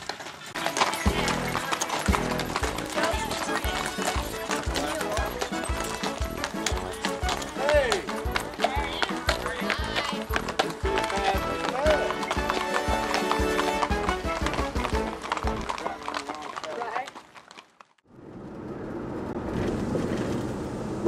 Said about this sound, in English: ride their horses and their wagons through the beautiful Lyndons Hills country